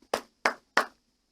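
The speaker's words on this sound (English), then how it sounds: "and I have to clap" Three sharp hand claps in steady succession, close and distinct, with silence between them and no talking.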